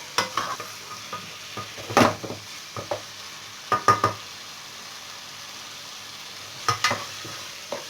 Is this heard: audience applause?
no